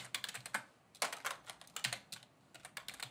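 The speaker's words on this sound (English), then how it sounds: "I'm going to type in sculpt." Typing on a computer keyboard, bursts of quick close-up key clicks in uneven clusters with short pauses between, fairly quiet and alone.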